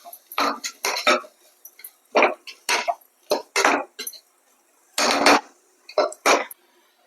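Spoon stirring mutton intestine masala in a cooking pot, a series of close, sharp metallic scrapes and clinks in irregular bursts with short silent gaps.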